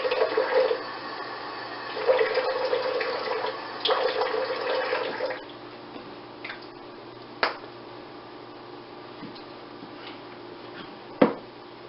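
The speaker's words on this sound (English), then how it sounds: "Add some water." Water pours in a steady, bright stream into a flask for a homebrew yeast starter for about five seconds, then stops, followed by a few sharp clinks and taps of glass.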